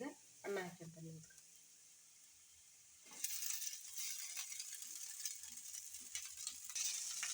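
Cooked rice tipped into a pan with onions for jeera rice, then stirred and sizzling steadily with scraping and rustling; a voice speaks briefly at the start before the frying takes over.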